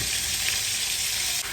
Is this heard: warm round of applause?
no